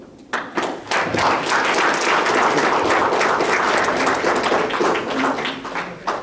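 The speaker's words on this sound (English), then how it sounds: "For this, we applaud Ms. Rosemary Carvajal." Sustained applause from a city council meeting audience honoring Ms. Rosemary Carvajal, dense steady clapping filling the room at close range and tapering slightly at the end.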